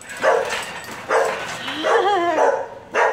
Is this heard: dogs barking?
yes